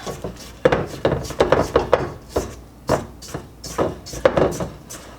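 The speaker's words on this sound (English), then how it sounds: "Go ahead and scrape the bowl so again everything will get nicely mixed in together well." A spatula scraping Christmas kitchen sink cookie dough around a mixing bowl, with a string of close, uneven scrapes and knocks at an irregular rhythm.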